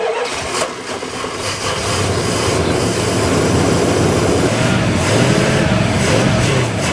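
An old bulletproof presidential car's engine runs steadily at a rough idle, loud and close, with a constant low mechanical rumble and no voices.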